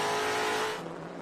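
Muscle cars racing on board down the back straight, a loud roaring engine at full throttle that drops in intensity partway through as the car lifts or shifts.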